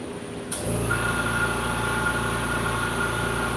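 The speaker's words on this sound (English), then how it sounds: "There's the good old compressor." An air compressor at a laser engraving setup starts abruptly after half a second and keeps running, a loud, steady motor drone with a high whine and faint vibration, alone without speech.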